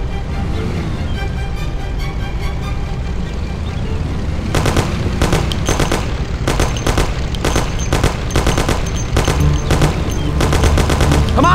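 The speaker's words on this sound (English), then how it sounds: "Thompson, you and Sam shoot them." Rapid bursts of gunfire crackle in a Mafia video game shootout, starting with a low rumble before dense volleys of loud, clustered shots fire repeatedly over several seconds.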